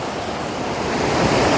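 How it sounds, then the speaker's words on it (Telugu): The Thonam waterfall near Salur in Parvathipuram Manyam pours between hills with a loud, continuous roar that swells slightly toward the end, with no talking. "కొండల మధ్య నుంచి వాటర్ అలా రావడం అనేది చాలా బాగుంది"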